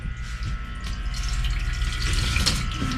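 Water draining from a homemade water filter after the supply is shut off, a steady close trickling and gurgling flow that continues evenly for a few seconds with no talking.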